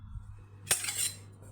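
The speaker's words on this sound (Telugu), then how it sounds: "ఒక మిక్సీ జార్ను తీసుకొని" Steel mixer grinder jar picked up and set down, giving one sharp metallic clink followed by a brief rattle, close and isolated against a quiet kitchen hum.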